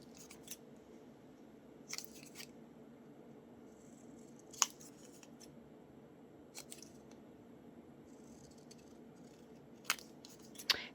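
Scissors cutting green paper for a collage tag, a handful of sharp, separate snips spaced a second or two apart over a quiet room background.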